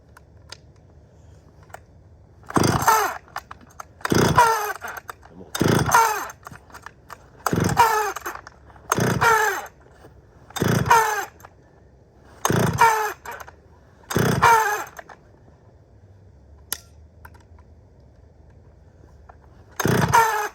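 A Stihl chainsaw on cold start with the choke on: about nine sharp, evenly spaced pull-cord rips in a row, each a brief loud rasping burst, with no engine catching between them.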